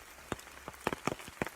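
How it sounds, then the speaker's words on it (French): Rain falling outdoors, with scattered individual drops tapping a nearby surface in irregular sharp bursts over a quiet background. "sans protection, et de juste savourer cette pluie"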